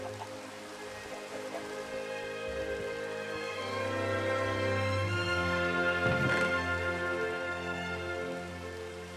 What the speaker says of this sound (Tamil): வெளியே வேற இந்த டைம் பார்த்து நல்லா மழை பெஞ்சிட்டு இருந்தது.